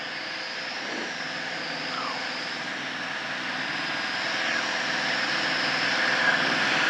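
A Piper Cherokee light propeller aircraft drones steadily in flight, a constant engine hum that grows slightly louder over several seconds, with no talk.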